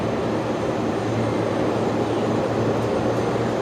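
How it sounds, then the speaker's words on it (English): A Qantas Airbus A380 on final approach into Brisbane Airport, running an empty ferry flight from Melbourne, makes a steady, broad engine roar that holds at an even level throughout with no voices. "The A380-200 operating Qantas 6011 on final."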